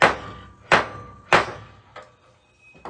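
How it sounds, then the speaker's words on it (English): A wrench whacked against a tabletop to break loose the wheel nut on a Dewalt DW758 8-inch bench grinder: three loud, sharp knocks about 0.6 seconds apart, then two softer taps, with no talking. "So you take a wrench, put it on the side here like this, and then all you have to do is just whack it on the table a couple times."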